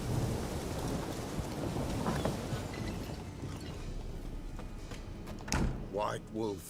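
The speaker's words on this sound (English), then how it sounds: "It's always raining in Valen." Rain pours steadily over the Velen region in The Witcher 3 while low thunder rumbles underneath, and a voice briefly speaks near the end over the storm.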